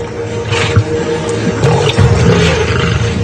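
A lion roars and snarls at hyenas while feuding over a carcass, a deep, rough, sustained growling roar close and loud, with squishy movement sounds underneath.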